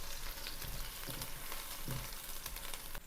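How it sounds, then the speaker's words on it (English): About a quarter cup of raw onion sizzles steadily in a hot pan, a constant loud frying hiss with faint stirring scrapes and no talking. "we're going to put about 1/4 of a cup of raw onion, and I'm going to go ahead and cook mine up"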